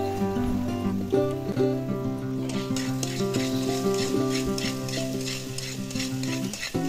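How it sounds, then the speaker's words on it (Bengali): Chicken pieces sautéing in a pan with a splash of ginger-garlic water, giving a loud, continuous sizzle and repeated stirring scrapes, set against a steady tonal hum that runs throughout. "সেই বাটির জল নিয়ে একটু দিয়ে আরও ভালো করে এটি কষে নেব।"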